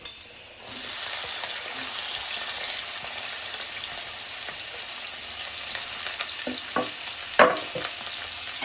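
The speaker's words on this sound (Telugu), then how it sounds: "దీంట్లో మనం కట్ చేసి పెట్టుకున్న మిర్చి ఆనియన్స్ యాడ్ చేసుకుందాం" Chopped onions and green chillies hit hot oil and burst into a loud, steady sizzle that holds throughout, with a few sharper spatters and stirring knocks near the end, close and without talk.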